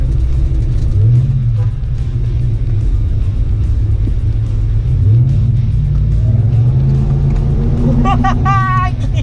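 A modified Toyota car engine revs on the throttle, a steady loud rumble that climbs in pitch several times and ends in a sharper rising rev, with people talking over it.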